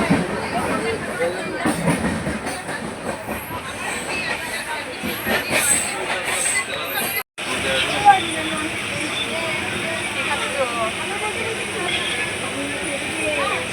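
Interior of a moving passenger train, a constant rumbling roar with faint wheel clatter and squeal, a brief dropout midway, and some indistinct voices mixed in.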